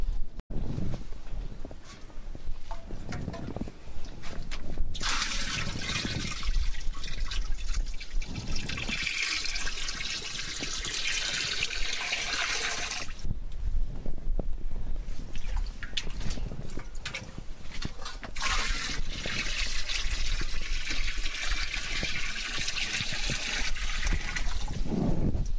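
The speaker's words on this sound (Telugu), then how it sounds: "ఇందులో 100 లీటర్ల నీళ్లు నింపుకోవాలి." Water pours steadily into a 100-litre drum, a continuous rushing, gurgling stream that briefly pauses and resumes, fairly loud and close with no voices.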